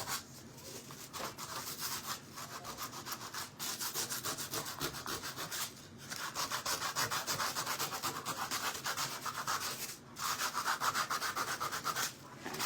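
Hand sanding of a wooden PRAY sign produces steady, close rubbing strokes in a repeated rhythm, with brief pauses between passes.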